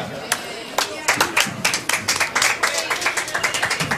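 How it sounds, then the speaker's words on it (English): Scattered hand claps from a small crowd of spectators following a rally at a junior four-wall handball world championship final, building into a modest, uneven round of applause with sharp individual claps standing out. "You're going to get a big round of applause here."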